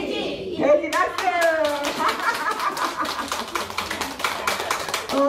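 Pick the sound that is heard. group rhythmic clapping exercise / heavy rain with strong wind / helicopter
group rhythmic clapping exercise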